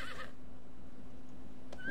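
A horse in the video game Steed gives a short whinny at the start, followed by a low steady hum and a faint click near the end.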